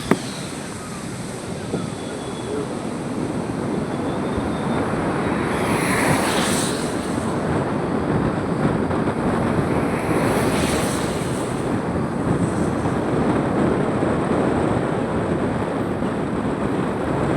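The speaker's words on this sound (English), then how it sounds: "And waterfalls are everywhere" Waterfall in green Sikkim, a loud, steady broadband rushing roar of falling water heard close and continuous, with gusts of wind noise and no talking.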